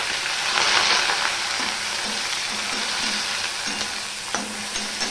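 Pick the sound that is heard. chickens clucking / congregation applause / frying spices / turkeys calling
frying spices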